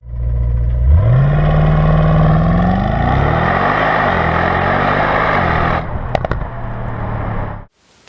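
An AMG V8 barks into a sharp rev that climbs and holds, then burbles and crackles as it falls away, loud and near, ending in a sudden stop.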